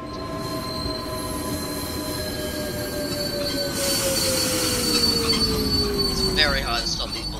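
Wheels of a long bullet train in a railway video game squeal in a loud, sustained, gliding screech over steady rolling rumble as it arrives at a yard, with faint clatter and no voices.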